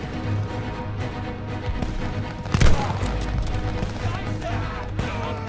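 Continuous battlefield gunfire in the Call of Duty Vanguard campaign on PS5, a dense roar of shots with one sharp louder burst midway, mixed with battle noise and soldiers shouting.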